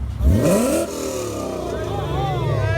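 V8 car engine revving close by, with a hard, quick throttle blip that rises and falls, then a steady idle-level rumble with smaller rev wobbles, and people talking over it.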